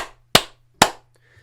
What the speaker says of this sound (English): put your hands in front of the camera where they can be seen and heard, and clap 3 times